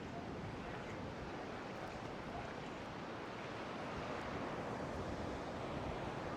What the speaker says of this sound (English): see how the waves are kind of doing the shuffling for us